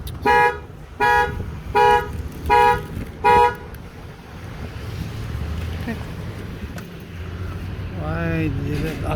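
Five loud, evenly spaced electronic alarm beeps sound from a seat-triggered alarm, followed by background chatter and a rising warbling tone near the end.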